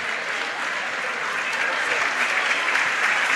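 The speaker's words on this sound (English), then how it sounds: "the other players get one more round of applause from this grateful Botkins crowd" A gym crowd at a girls' varsity basketball district semifinal gives a sustained round of applause, steady clapping at moderate level with no voices standing out.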